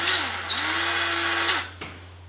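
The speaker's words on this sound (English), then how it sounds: "First hole drilled, it went right through nice." Power drill boring a hole through a Hawken blackpowder rifle stock while cutting keyways, a steady close whine for about a second and a half that winds down and stops, followed by a faint click.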